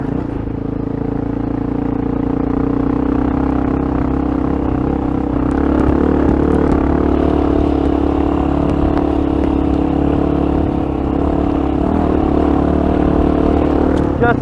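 A Honda XR650L dual-sport motorcycle engine drones loudly and steadily throughout, with some revving and rattling as the bike is ridden through deep sand and whoops.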